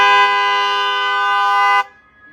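A pickup truck's horn blares in one loud, sustained honk lasting nearly two seconds, then cuts off abruptly.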